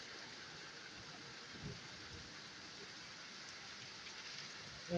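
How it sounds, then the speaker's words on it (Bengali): Rain falls onto a balcony in a steady, even hiss of drops at moderate level, continuous throughout with no voices. "বৃষ্টির পানি আমার বেলকনিতে পড়তেছে"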